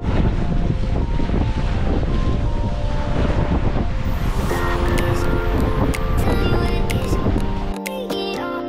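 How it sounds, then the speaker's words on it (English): A sailboat motors slowly out of the harbour at Maupiti under engine, a steady loud rush of engine, wind and water noise that runs throughout, with tonal hums emerging toward the end. "Ghosting slowly out of Maupiti under engine."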